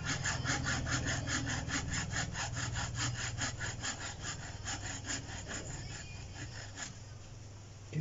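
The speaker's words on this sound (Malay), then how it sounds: "usahakan untuk menggunakan gergaji yang tajam" A sharp handsaw cuts through a bougainvillea branch during bonsai pruning, a steady rapid back-and-forth rasp of teeth on wood that runs continuously and close, easing slightly toward the end with no voices.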